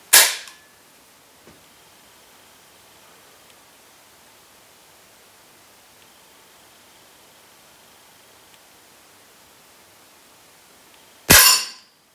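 Two sharp, loud shots from a Weihrauch HW75 Target air pistol, one at the very start and one near the end, with a long quiet pause and only faint small clicks between them.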